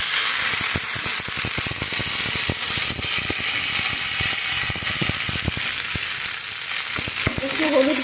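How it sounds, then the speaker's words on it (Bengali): Panch phoron, dry chilli, bay leaf and ginger hit hot oil and fry, making a loud, dense sizzle full of sharp crackles and pops, with stirring scrapes throughout. "এখন দিয়ে দেবো আমি 5 ফোড়ন, এরপরে দিয়ে দেবো শুকনো লঙ্কা,"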